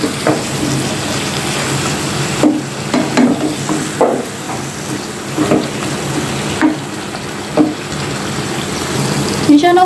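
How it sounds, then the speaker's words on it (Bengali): Vegetables fry in spices in a pan for a potato and pangas fish curry, with a loud continuous sizzle and regular spatula knocks and scrapes as they are stirred. "এখন একটু নেড়েচেড়ে দিচ্ছি। সবজিগুলোকে মশলার সাথে ভালো করে কষিয়ে নিব।"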